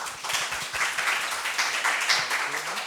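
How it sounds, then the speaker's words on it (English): An audience gives a warm round of applause to welcome a speaker at a human rights workshop on enforced disappearances, with close, lively clapping and some distinct individual claps that continues throughout. "let's welcome her with a warm round of applause."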